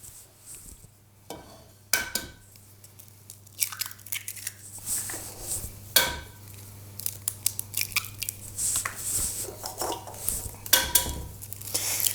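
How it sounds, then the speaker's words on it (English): Eggs and sugar for a pound cake are mixed in a bowl, with irregular clinks and scrapes of a utensil against the dish rising and falling in uneven bursts, close and fairly quiet. "We're going to start with mixing up the eggs and the sugar first."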